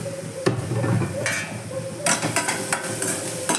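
Bajji chilli chutney ingredients sautéing in a pan, a low sizzle broken by a few sharp spoon scrapes and taps against the pan, close and fairly loud.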